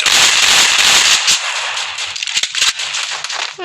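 Gunfire in the Free Fire battle royale game, a dense burst of loud, cracking shots in the first second and a half, then scattered sharper pops and crackles that thin out toward the end.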